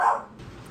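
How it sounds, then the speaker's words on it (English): A dog gives a single short bark, fairly quiet and slightly distant, followed by low room noise. "Pardon my dog."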